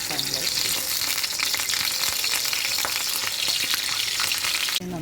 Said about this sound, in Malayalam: അപ്പോൾ നമ്മളുടെ ചിക്കൻ വറുക്കാനുള്ള ചട്ടി ചൂടായിട്ടുണ്ട്